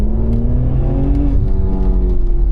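A 700 BHP Audi RS4 accelerating hard on a hot lap, its engine drone loud and steady with rising harmonics and no break, heard continuously from close by.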